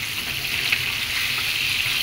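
Fried fish sizzles steadily in a pan, a dense, even crackle of hot oil that holds at a constant level for the whole stretch with no voices over it.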